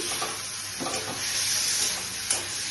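Coconut paste sizzling steadily in a hot pan while a chichinga (snake gourd) curry with mustard cooks, a continuous close frying hiss with faint stirring scrapes and no voices.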